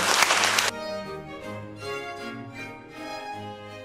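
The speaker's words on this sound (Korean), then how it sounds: "다시 한 번 더 큰 박수를" A short, loud burst of audience applause at a book-launch talk show ends abruptly after under a second, giving way to soft instrumental music.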